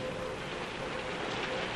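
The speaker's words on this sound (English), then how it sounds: "Well, that's rain, Dad, and it's coming in." Steady rain in a forest, falling as a dense, even hiss close by, with no talk over it.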